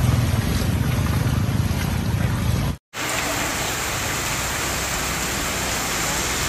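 Heavy rain pours over flooded city streets in Ca Mau, Vietnam, making a dense, loud, steady roar that cuts out for a split second partway through before resuming just as strongly.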